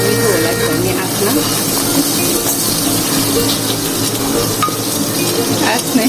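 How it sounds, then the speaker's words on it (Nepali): Vegetables frying for a Nepali-style veg pulao, a steady broadband sizzle with stirring scrapes throughout, close and fairly loud, with a person talking faintly in the background. "अलिअलि हामी फ्राई गर्छौँ।"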